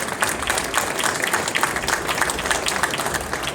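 An indoor audience applauds steadily for a few seconds, with dense clapping at even loudness the whole time.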